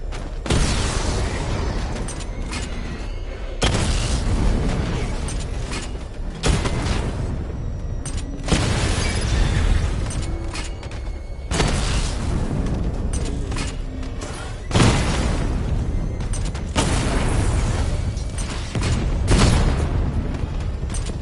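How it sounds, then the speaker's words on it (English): Repeated missile barrage explosions in the video game Batman Arkham Knight, heavy booming blasts in clustered bursts that recur every few seconds, loud and continuous with rumbling tails, no talk. "Charge up missile barrage to level 2 and destroy 4 active targets to complete diagnostic test."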